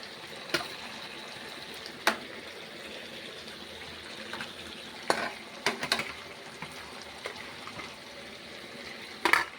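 Fried potatoes are stirred and sautéed in a pan for a Bengali curry, giving a low frying sizzle broken by several sharp scraping and clattering hits of the spoon, close by and without speech.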